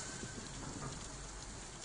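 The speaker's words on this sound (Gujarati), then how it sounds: "વીજળીના કડાકા ભડાકા સાથે વરસાદ વરસ્યો" Rain in Lalpur, Jamnagar falls as a steady, faint, even patter with no other sound standing out.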